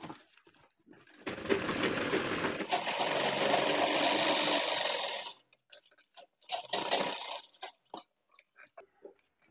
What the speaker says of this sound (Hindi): इसको अंदर के साइड फोल्ड करके यहाँ पे सिलाई लगा लेंगे